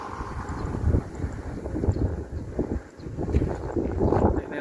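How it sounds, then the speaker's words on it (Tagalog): Strong wind gusts on a rooftop where racing pigeons are being trained, buffeting the microphone in loud, uneven surges of low rumble that rise and fall across the moment. "Lakas ng hangin."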